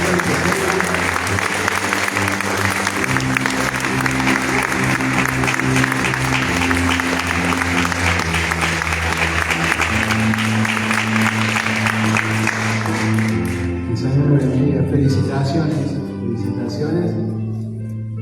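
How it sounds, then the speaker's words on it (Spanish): A church congregation at an Easter Sunday communion service applauds as a sustained wash of clapping over loud organ-like music with held chords. The clapping fades near the end while the music carries on. "Los recibimos con un aplauso."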